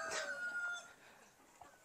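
A native chicken gives a short, loud crow at a Philippine backyard poultry farm, followed by softer murmuring clucks and light farmyard background.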